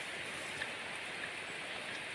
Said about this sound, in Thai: วัวโดนฝนไม่ได้ค่ะ วัวกลัวฝน วัวจะต้องเข้าร่มเลย